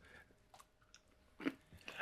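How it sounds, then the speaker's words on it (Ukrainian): Someone chews spicy Death Nut challenge nuts, producing a few soft crunchy bites and mouth sounds, close and quiet, with sharper crunches near the end. "Я просто не хочу, щоб ми одночасно чавкали."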